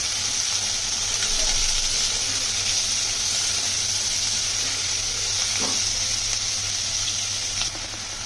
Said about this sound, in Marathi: टाकूया, कांदा. कांदा चांगला नरम करून घेऊया.